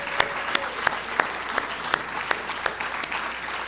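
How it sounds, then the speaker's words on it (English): Audience applause at a university awards ceremony for the evening's nominees: steady clapping from a crowd indoors, with sharp individual claps standing out above the dense wash of hands. "let's give a big round of applause to all the nominees for this evening's awards."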